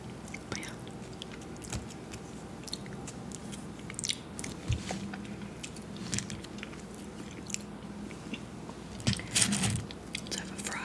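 Someone eating mac and cheese close up: soft, wet chewing and occasional crunchy bites in an uneven rhythm, intimate and quiet, with faint whispering now and then.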